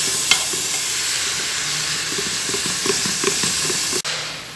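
Zucchini sautéing in a pan for pressure-cooker pasta gives a steady close sizzle and hiss, with a few soft stirring knocks and a sharp clack near the end.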